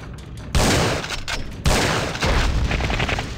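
Rapid bursts of gunfire in the Schuld video game, loud and close, with several sharp volleys and a sustained crackle of shots and no talking.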